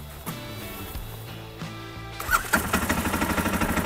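A quad bike engine is cranked with a few soft clicks and a brief whirr, then catches and settles into a close, steady, pulsing idle.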